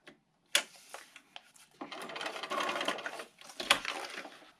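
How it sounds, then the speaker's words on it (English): A sewing machine stitches fabric for paper piecing in a quiet room, running in short bursts, with small clicks and handling noises between runs. "Just going to take this to my sewing machine"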